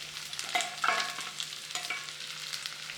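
Seasoned shrimp and sliced onion frying in a pan, a bright sizzle under repeated scraping and stirring strokes and light clinks of a utensil, close and moderately loud.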